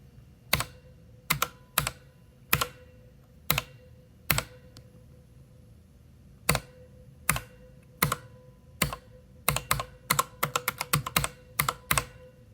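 Keys on a Corsair keyboard with Cherry Viola switches are pressed one at a time, sharp distinct clacks with pauses that speed up into a quick burst near the end, close and clear in a quiet room.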